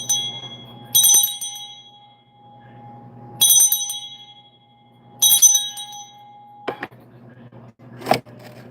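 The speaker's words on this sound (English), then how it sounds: "Let me ring this bell." A hand bell rung three times in evenly spaced bursts, each a bright metallic jangle with a lingering ringing tone, followed by a couple of sharp clinks and knocks, close and loud.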